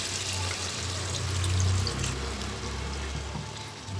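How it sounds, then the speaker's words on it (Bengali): Water is poured into thick masala cooking in a pan for a chicken dak bungalow curry, producing a steady, close pouring hiss with a low simmering sizzle and no talk. "এখানে এবার আমি পানি অ্যাড করে দিচ্ছি।"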